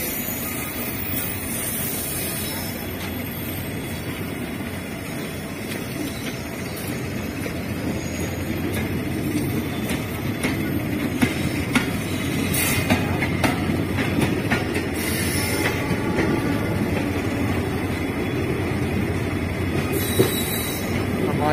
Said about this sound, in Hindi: ये हमारी ट्रेन भी चल पड़ी है